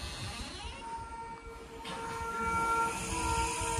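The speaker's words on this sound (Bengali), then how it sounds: "ওদিকে দার্জিলিং স্টেশনের টয় ট্রেনের সাউন্ড শোনা যাচ্ছে" Heard from a hotel balcony near Mall Road, the Darjeeling toy train at the station gives off a distant, continuous mechanical rumble and hiss that grows slightly louder toward the end. No one speaks.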